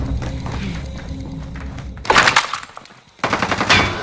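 Automatic gunfire from Call of Duty: Modern Warfare rattles loudly in two dense bursts, a sustained volley followed by a second rapid stream, over a constant rumbling battlefield backdrop.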